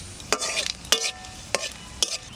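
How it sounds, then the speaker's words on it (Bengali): Bay leaves, dried red chillies and cumin hit hot oil to temper chickpea dal, giving a low, steady sizzle with four sharp bursts of crackle spaced about half a second apart; no one speaks. "এবার ডাল ফোড়ন দেব, তেল দিচ্ছি, তেজপাতা আর শুকনো লঙ্কা, জিরে"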